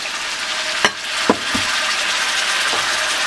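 Onions with red and green bell peppers fry on high heat in a pan for a chilli chicken dish, giving a dense continuous sizzle broken by a few sharp clatters of stirring, with no talk.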